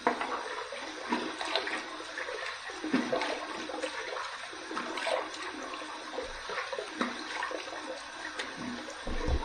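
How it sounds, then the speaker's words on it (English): Water running and splashing at a sink as a face is rinsed during a shave, a continuous watery rush with irregular splashes, fairly close and steady. "splashing a little more cold water on my face because it is warm"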